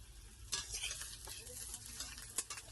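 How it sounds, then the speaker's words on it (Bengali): Parathas frying in oil in a kadai, a faint steady sizzle with scattered sharp clinks and scraping stirs, quiet and close with no talking over it. "এই দেখো পরোটা হচ্ছে কড়াতে"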